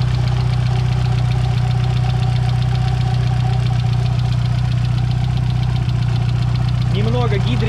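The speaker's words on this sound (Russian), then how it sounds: "Так работает мотор." A Mitsubishi Lancer Evolution VIII engine idles with a steady, low rumbling hum and a faint rhythmic ticking from the hydraulic lifters, close and continuous throughout.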